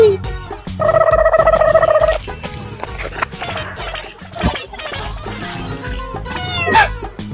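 A hungry cat meows in a comedy skit with a miniature cooking set: one long, loud, drawn-out meow, then a few shorter rising meows near the end, with other background sounds between them.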